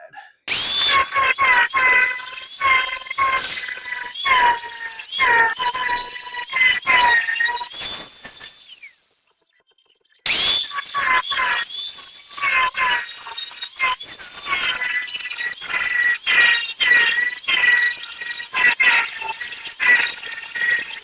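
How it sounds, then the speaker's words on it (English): An 80 grit flat sanding disc grinds on car body metal of a 1974 Nova, giving a loud rasping screech in repeated passes, with a short pause before grinding resumes. "I'm using a 80 grit flat disc because that won't tear the metal up too bad."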